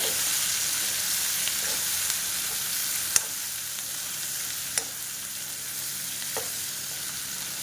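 Capsicum frying in oil in a pan gives a steady, even hiss, with a few sharp clicks of a spatula as the pieces are turned every second or so.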